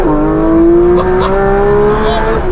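A new race-car-like road car revving hard, a loud high engine whine holding and slowly climbing in pitch, close by, with brief voices breaking through the noise.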